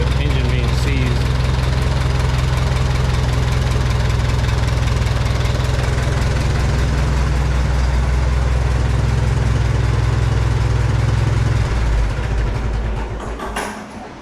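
The engine of a 1949 J.I. Case LA tractor runs loud and close with a heavy low throbbing idle, holding steady before dropping in pitch and fading near the end; someone talks over it.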